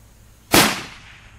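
A single rifle shot from a .300 RUM fired at a target about 2.2 miles away, a sharp loud crack with a decaying tail in otherwise quiet outdoor air.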